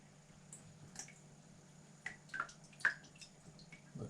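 Marinade dripping off chicken pieces while making Nashville hot chicken, heard as a few quiet, irregular wet drips and taps in a calm kitchen.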